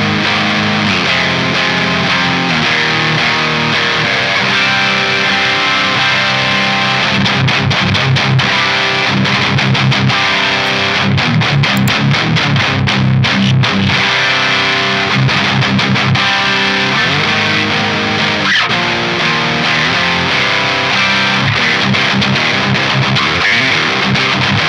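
Loud, continuous distorted electric guitar playing chugging riffs and sustained chords with a heavy amp tone throughout, played through the Neural DSP Archetype Tim Henson impulse response plugin.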